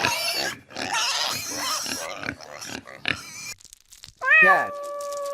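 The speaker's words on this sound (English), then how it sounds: "pig," A pig grunts and oinks in a few short, close calls near the end, after a stretch of busy rustling, crunching noise and voice-like sounds.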